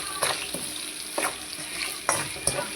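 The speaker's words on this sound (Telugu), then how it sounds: "కరివేపాకు కొద్దిగా వేగేంత వరకు బాగా కలుపుకోండి." Curry leaves and cumin seeds sizzle in hot oil in a pan for jeera rice, with a bright crackling hiss broken by a few sharp scrapes of the spoon, up close.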